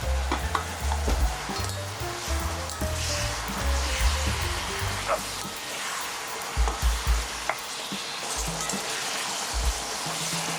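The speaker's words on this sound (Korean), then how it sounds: "불을 중불로 다시 올려주시고 가지를 구워주세요" Eggplant cooking in a pan over medium heat with mirin and sugar, sizzling steadily up close while a utensil stirs and knocks against the pan at irregular moments, with no talking.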